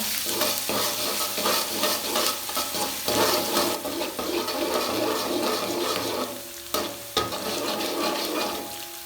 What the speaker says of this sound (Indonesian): masukkan irisan bawang putih dan bawang merah ke dalamnya. Dioseng-oseng sebentar.